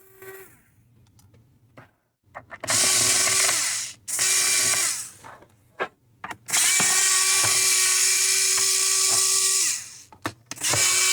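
A small electric screwdriver whirs in repeated bursts of a few seconds each, close and loud, as screws come out of the bottom panel of an Asus ROG Strix G15 laptop, with quiet pauses between.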